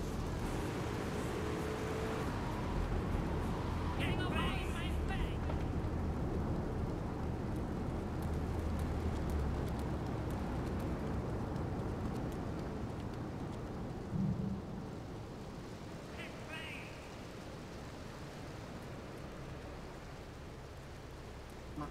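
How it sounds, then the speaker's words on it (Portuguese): Steady rain hisses without pause in the Grand Theft Auto III game world, with a faint low rumble of thunder underneath and a brief dull thud midway; nobody speaks. "Caramba, essa chuva, velho."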